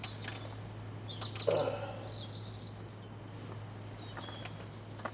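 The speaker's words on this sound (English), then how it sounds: "Right, it's very quiet, just some birds." Birds in the countryside sing faintly in short high chirps and trills over a quiet outdoor hush and a steady low hum, with one brief louder call near the middle.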